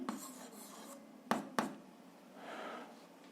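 Pen scratching across paper while an algebra exercise is written out for a seventh-grade lesson, with soft, quiet strokes close by and two sharp taps midway.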